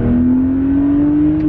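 A BMW 130i engine revs steadily upward past about 4,000 RPM, a loud, continuous rising drone close up with no talk.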